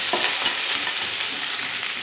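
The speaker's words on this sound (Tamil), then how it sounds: "சின்ன சின்னதாக நறுக்கி வச்சுருந்த வெண்டைக்காயை போட்டு நல்லா வதக்கிக்கணும்." Chopped okra sizzles and crackles in hot oil, a steady frying hiss with faint stirring scrapes, close by and without voices.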